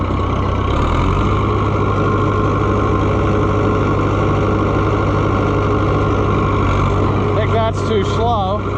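An Oliver 1365 tractor engine runs steadily with the mower engaged, a loud, close, continuous rumble, with a brief squealing whine near the end.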